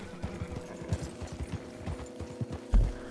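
Horse hooves clip-clop steadily in Red Dead Online, a rhythmic run of fairly close, moderately loud hoof strikes ending in one heavier thud.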